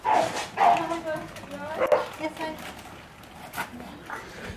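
Dogs next door bark and yip in a run of sharp overlapping calls at moderate distance, fading after a few seconds, with a person talking across them.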